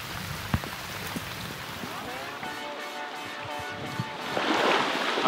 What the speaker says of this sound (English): the heavens well and truly opened and the rain put an end to my surface fishing chances